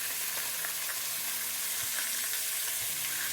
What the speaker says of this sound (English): So you can definitely hear that sizzling away in the background.